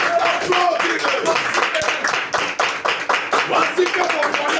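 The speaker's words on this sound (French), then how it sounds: "Applaudis-le. Applaudis-le." A church audience clapping in a rhythmic pattern for an honoured guest, dense hand claps mixed with voices calling out over them.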